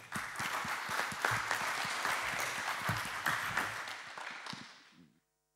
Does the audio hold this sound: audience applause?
yes